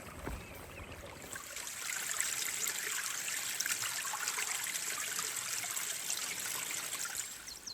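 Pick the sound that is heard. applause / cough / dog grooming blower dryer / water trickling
water trickling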